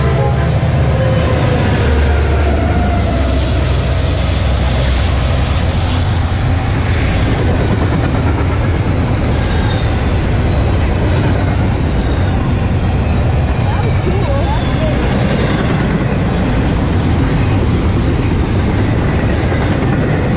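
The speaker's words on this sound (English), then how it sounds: "here is an intermodal train" A CSX intermodal freight train led by an SD40-3 locomotive passes very close and loud, with a continuous heavy roar and rumble of rolling cars and wheels; a voice is faintly audible beneath the noise.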